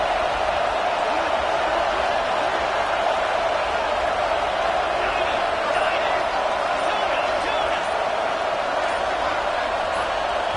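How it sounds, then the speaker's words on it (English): A packed football stadium crowd roars at a fourth-and-goal play, a steady, loud wall of noise that holds without a break throughout. "And with this place rocking, the crowd forces a false start."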